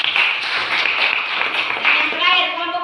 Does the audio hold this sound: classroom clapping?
yes